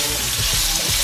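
Guanciale frying in a pan for carbonara, a dense, steady sizzle running close and loud through the whole short moment with no voice over it.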